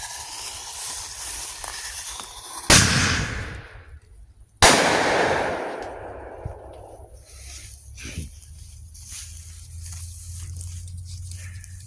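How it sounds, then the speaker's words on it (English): Fireworks go off near a stealth campsite at night: two sharp, loud bangs a couple of seconds apart, each trailing into a crackling hiss, then a fainter pop later amid quiet background. "people are still lighting off fireworks around my place"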